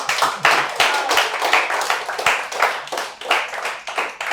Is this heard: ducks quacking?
no